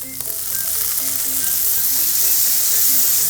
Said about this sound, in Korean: 그 다음에 간장 넣을 때 치 소리가 나야 돼요.